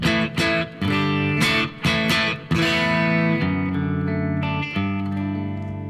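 Clean-toned electric guitar into an amplifier with a TS9 pedal ahead of a Governor pedal, ringing chords strummed several times and then left to sustain and decay, bright and close with no voices.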